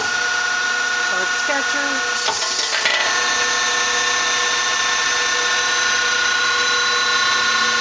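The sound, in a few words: Hanwha Hanex 25 CNC Swiss lathe sub-spindle running at 2,000 RPM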